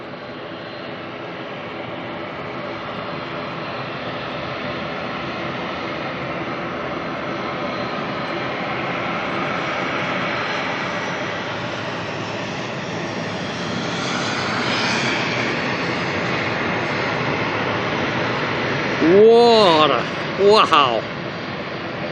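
Boeing 777 departing at night with afterburner-like roar, a broad steady jet rumble swelling gradually, a brief exclamation from a voice near the end.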